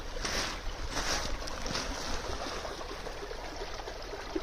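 Stream water runs out under a small brook dam and along a pipe, a steady broadband rushing and trickling that stays fairly faint and even throughout, with no voices.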